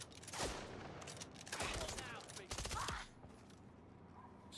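Gunfire in the video game MindsEye, several short clustered bursts of shots at moderate loudness over a low background, with some speech mixed in.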